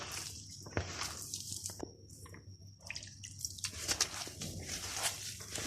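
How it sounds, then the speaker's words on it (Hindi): Gram flour batter is whisked in a bowl as water is added a little at a time, producing close, irregular wet squishing and dripping sounds that run continuously without speech. "अब हम इसके अंदर थोड़ा थोड़ा पानी ऐड करते जाएंगे और इसका बैटर रेडी कर लेंगे।"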